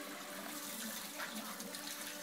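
Warm water pours steadily into a shaker for a protein shake, a continuous soft splashing rush at low level with no talk over it.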